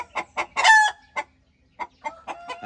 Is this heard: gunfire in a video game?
no